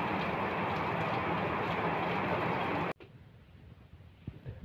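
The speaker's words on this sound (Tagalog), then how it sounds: "umuulan na naman" Steady morning rain pours outside a stock room doubling as a bedroom on a rainy late-August day, a loud, dense hiss for about three seconds before cutting off abruptly to quieter room ambience with faint ticks.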